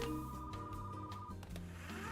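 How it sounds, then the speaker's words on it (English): Telephone ringing in the retro video-rental store game Retro Rewind, a steady electronic ring tone lasting a couple of seconds over a soft background music bed. "Phone call."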